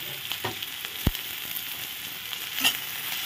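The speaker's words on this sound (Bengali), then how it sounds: "রসুনটা ভাজা হয়ে গেল। এখন আলু কুচি দিয়ে দেব।" Garlic and chopped potato fry in a pan with a steady low sizzle, a few sharp stirring clicks and scrapes standing out near the start and end.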